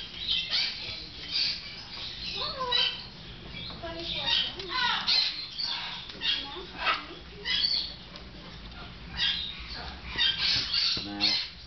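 A hyacinth macaw gives repeated raspy squawks and chattering calls throughout, heard close up and interleaved with a person talking to the bird.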